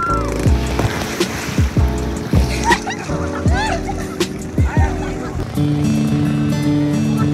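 Ocean waves wash and splash steadily, close by, on a surfing beach at Liwliwa, Zambales, with gentle early-morning surf under a voice and music with a repeating beat.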